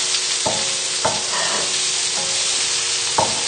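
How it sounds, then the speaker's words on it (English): Sausages and pesto are stirred in a hot pan over a medium burner at full heat, giving a constant loud sizzle broken by several sharp utensil scrapes. "So just moving the sausages and pesto around in the pan"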